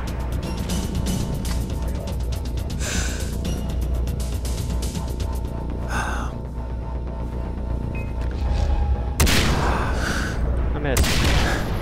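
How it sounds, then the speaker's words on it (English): Sniper rifle shots in the shooter game Far Cry 3 Blood Dragon ring out as a handful of loud, separate cracks spaced several seconds apart over steady game noise and a low hum. "Looks like I have to use a sniper to take out these snipers."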